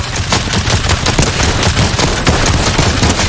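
Rapid, loud bursts of automatic assault rifle fire in Fortnite, sustained and dense throughout with no pauses or talk.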